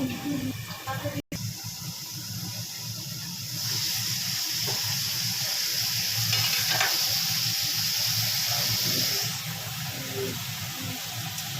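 Sundarbans crabs cook in a covered pan with a steady, soft sizzle and bubbling hiss that swells louder midway, marked by a brief sharp click near the start.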